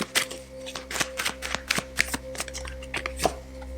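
Tarot cards being shuffled in quick, crisp riffling bursts, close and fairly clear, with a steady low hum underneath.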